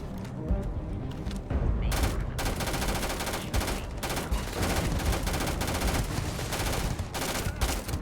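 Pistol fire in the game Starfield crackles in a dense, continuous string of close, loud shots, with explosive booms mixed throughout.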